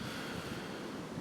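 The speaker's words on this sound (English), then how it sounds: "the wind that I hope isn't ruining this recording, as it's quite windy here" Strong wind gusts through woods and buffets the microphone, giving a loud, continuous, roaring rush with no speech.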